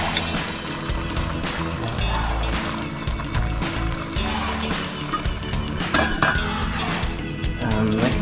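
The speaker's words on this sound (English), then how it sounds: "take up the lid and stir it around" A lid lifts and a spoon stirs ginger chicken in a pot, making close metallic clinks and scraping over a steady bubbling cooking background, with some faint talk.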